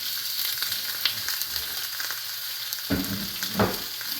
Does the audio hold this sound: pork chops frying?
yes